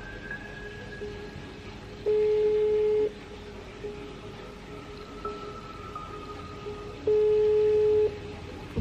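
Phone ringback tone during a call, two long beeps about five seconds apart, each lasting roughly a second, faint against a quiet background.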